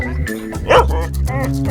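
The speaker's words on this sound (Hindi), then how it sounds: "ये असली कुत्ता है।" A dog barks and yips close by, a few short sharp woofs with a whimpering tone, loud and clear.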